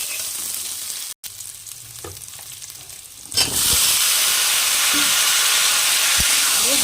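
Pre-fried vegetables drop into a hot pan of oil with potatoes, and the sizzle jumps sharply louder and stays as a steady, close hiss while they are stirred; a brief dropout comes earlier.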